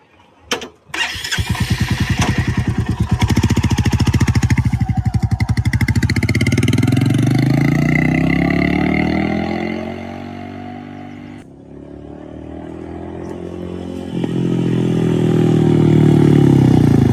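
A Royal Enfield Meteor 350 motorcycle engine cranks and catches, then runs loud and close at a steady idle before revving up, dipping and revving again, with no talk over it.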